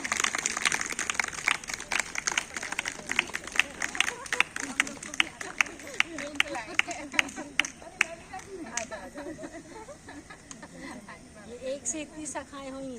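Rhythmic group clapping at a yoga gathering, sharp claps in a steady beat that thin out and fade while voices and murmuring take over toward the end.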